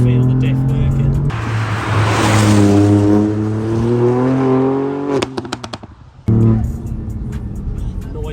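A Ford Fiesta ST Mk8 driven hard, its engine note climbing loud and close through the revs, briefly cutting back around the midpoint before pulling hard again, with short bits of talk at the start and end.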